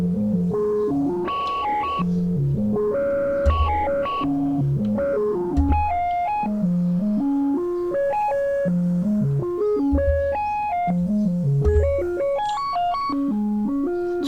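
Self frequency-modulated tones from a Cerberus Eurorack synth module at a 4:3 ratio play a stepping sequence of bright, metallic, bell-like FM notes with occasional low thumps, loud and steady, with no talking.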